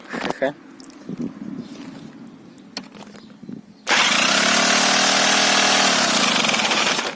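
An old Romet Ogar 205 moped engine, primed with fuel after years unused, sputters and coughs for a few seconds, then suddenly roars into a loud, steady buzzing drone up close.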